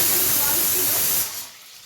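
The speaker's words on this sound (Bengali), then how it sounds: "প্রেশার কুকারে ফিকি দিচ্ছে তো ওই জন্য একটু আওয়াজটা বেশি আসছে" Loud, steady hiss of steam escaping under pressure from a pressure cooker whistle while mutton cooks, fading sharply near the end.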